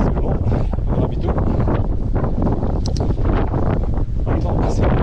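Strong wind buffets the microphone during a trail run in the Beaujolais hills, a loud, constant low roar with gusty rustling throughout.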